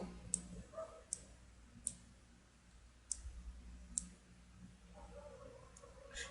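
A computer mouse clicks while someone uses the Free Transform Tool in an image editing program, about six or seven sharp, separate clicks spaced irregularly in a very quiet room.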